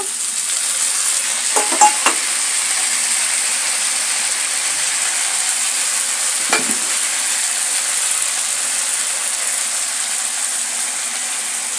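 Ginger, cumin and garlic paste frying with beans, potato and onion in a pan, a steady loud sizzle throughout with a couple of brief stirring scrapes.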